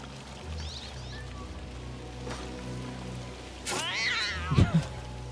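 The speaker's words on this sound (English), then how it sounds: "Oh, I can't pet the cat." A cat meows in the game Assassin's Creed Mirage, a couple of short mews standing out over a steady ambient bed of rain-like noise, moderately close, with a little talk nearby.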